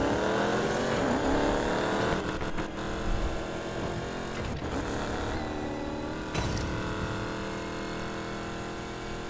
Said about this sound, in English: He must have one of those supercross cars.